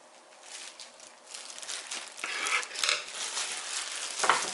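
Cooked rice is mixed with vinegar by hand, giving soft irregular rustling, squishing and light clinking sounds, close and fairly quiet, growing a little busier toward the end.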